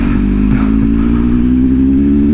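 The engine of a motorized cargo tricycle runs loud and close, a steady low rumble with a slight clatter and no change in pace.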